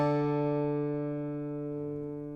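A single high note on a Taylor K14ce V-Class Builder's Edition acoustic guitar rings out clearly and decays smoothly and evenly, heard alone with no talking.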